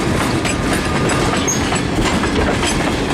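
CSX freight train of tank cars rolling slowly over jointed rail, wheels clacking in a dense steady rhythm against a loud continuous rumble, close by and without voices.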